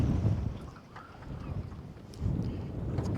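Wind buffets a microphone beside a lake in low, rumbling gusts that swell and ease, with no other clear sounds.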